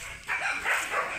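A Labrador dog gives a short bark or yip, close and brief, a single burst of a second or so.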